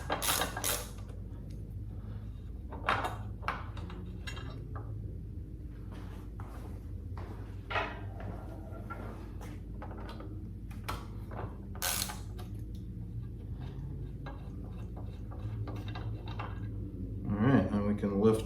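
Bolts held with red thread locker are backed out of the grab handle on a 2024 Triumph Scrambler 400X, giving faint, repeated ratcheting clicks and creaks over a steady low hum.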